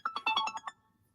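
A mobile phone ringtone chimes in a short melodic burst of about six quick tonal notes, fairly close and clear, fading out after under a second with no talk over it.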